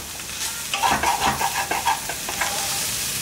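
Minced chicken and chopped vegetables stir-frying on high heat for pocket samosa filling, rhythmic scraping stirs over a continuous sizzle, close and clear, no voices.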